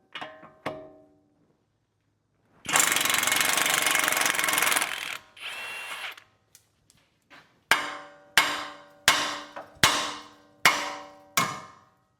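An outer tie rod end being unbolted on a Jeep Renegade: a long, loud burst from an impact gun, then a shorter run, followed by a series of sharp, evenly spaced metallic clanks, all close by with no talking.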